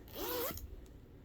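A single quick zip as a zipper on a handmade purse is pulled, a short, close rasp lasting about half a second, followed by a faint clink.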